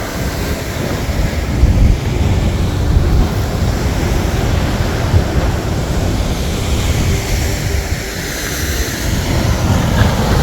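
Ocean surf washes against lava rock sea caves at Kilauea, Hawaii, a loud continuous rumbling roar with swelling surges, heavy wind buffeting the microphone.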